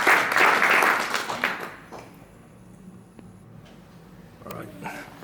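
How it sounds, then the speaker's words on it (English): An audience at an evening presentation claps for a couple of seconds, then the applause thins to scattered claps and quiet room noise, with a little activity near the end. "Let's give him a round of applause."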